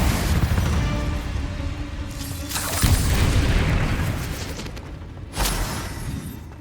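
Fire-spell explosions in the video game Hogwarts Legacy, a couple of loud booming bursts with rumbling tails over steady game noise, no talk.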